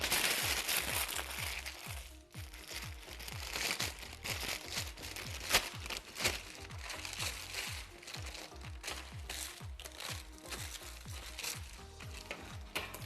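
A sheet is scrunched up by hand while cooking, giving a continuous close crackling and crinkling with a busy, uneven texture of small snaps throughout, and no clear talk over it.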